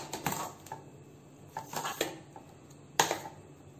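A spoon mixes mango ice cream in a bowl, giving a handful of sharp, quiet clinks and taps at irregular intervals against a faint background, with no talk.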